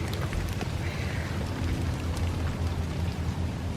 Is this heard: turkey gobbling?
no